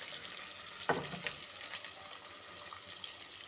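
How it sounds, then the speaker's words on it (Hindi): Chopped onions dropped into leftover oil in a pan while cooking dhaba-style bhindi masala, a short splash and crackle followed by a steady, fairly close sizzle that carries on alone. "अब हम इसके अंदर ये जो तेल रह गया है इसके अंदर हम अपने प्याज डालेंगे।"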